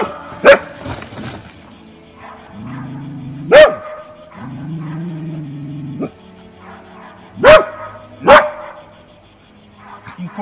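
A dog barks aggressively during a trainer's aggression test: four loud, sharp barks spaced across the clip, with low rumbling growls between them and a faint insect-like buzz behind.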